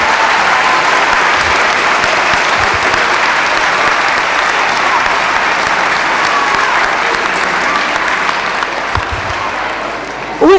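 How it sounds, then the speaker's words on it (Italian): Loud, sustained audience applause fills a municipal town-twinning ceremony with Clécy in 2012, a dense steady wash of many hands clapping that continues unbroken for about ten seconds, with no speech over it. "io vi invito a fargli davvero un grande applauso"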